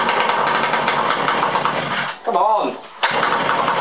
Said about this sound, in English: It draws so much fuel in, it floods it.